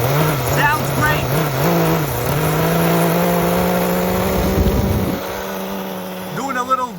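An HPI Super Nitro RS4 RC nitro car engine runs with a steady, buzzing whine that holds its pitch and then rises briefly as it revs, close and loud, with a person talking over it.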